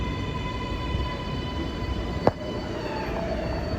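New York subway 7 train, car 7451, pulling out of Hudson Yards: a steady rolling rumble with a faint high whine, one sharp clank partway through, then a brief wheel squeal.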